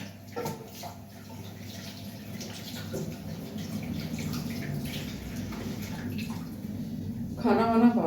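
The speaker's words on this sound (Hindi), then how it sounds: "अब हम अपने परात को थोड़ी देर पानी में रख देंगे" Steady running and splashing water as a parat, a kneading plate used for maize and wheat dough, is set to soak in a home kitchen. It continues throughout and swells near the end, with faint voice-like sounds in the background.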